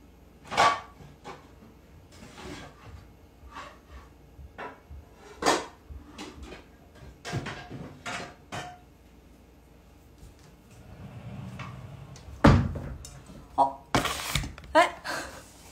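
Metal pots and lids clank and scrape amid cupboard and drawer knocks as a cooking pot is fetched from a cupboard, a series of irregular, fairly close kitchen clatters with brief pauses between.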